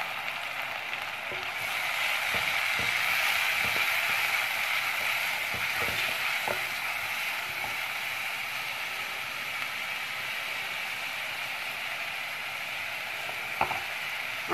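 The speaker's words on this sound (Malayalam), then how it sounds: "ഇനി ഇതിലേക്ക് ഞാൻ ചെറുതായിട്ട് അരിഞ്ഞു വെച്ചിരിക്കുന്ന തക്കാളിയും കൂടി ചേർത്ത് കൊടുക്കാം." Chopped tomatoes hit a pan of frying onions for a Kasaragod-style fish curry with grated coconut, giving a steady sizzle punctuated by a few utensil clicks and taps, with no talking.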